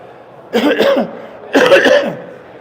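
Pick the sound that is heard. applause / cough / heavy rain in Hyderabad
cough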